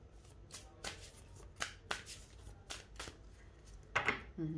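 Tarot cards shuffled by hand ahead of a reading, with soft riffling and flicking in repeated quick strokes, faint and close, ending in a brief sharper rustle.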